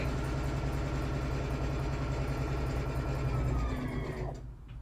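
A sewing machine stitches quilt pieces in a continuous fast whirring run, steady and close, then slows and stops near the end.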